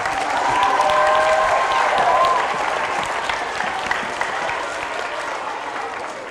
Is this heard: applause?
yes